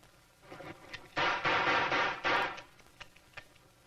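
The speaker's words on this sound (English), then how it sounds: "I'm going to drop this little ball and try to draw and shoot 6 times before it hits the floor" A handgun drawn and fired rapidly in trick shooting, several shots bunched into a dense, loud burst of about a second and a half, with quieter handling clicks before and after.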